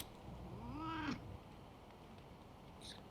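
A cat in the video game Wasteland 3 lets out a drawn-out rising and falling yowl, close and moderately loud, then a faint brief chirp, with no talking.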